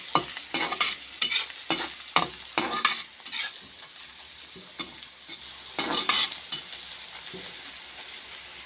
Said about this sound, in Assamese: আৰু এয়া লৰাই দিছোঁ ভালকৈ।